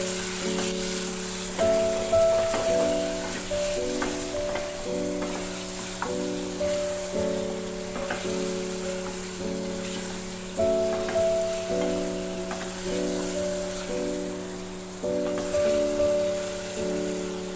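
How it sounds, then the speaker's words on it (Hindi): Beef liver (kaleji) fries in hot oil, giving a soft, steady sizzle and crackle beneath louder background music with repeating tones throughout. "मैंने कलेजी को 1 मिनट तक ऑयल में फ्राई किया है।"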